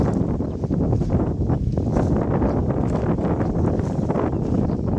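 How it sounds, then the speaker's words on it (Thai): Strong wind roars across the microphone during a dry thunderstorm, a loud continuous low rumble with flutter, constant and close, no other clear sounds. "มีแต่เสียงฟ้าร้องกับลมครับ ฝน ไม่ตกสักที"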